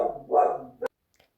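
A single dog gives a couple of barks, a drawn-out yelping bark followed by a short sharp one, then near silence with a faint distant trace.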